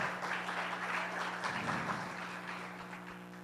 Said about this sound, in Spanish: denle el aplauso bien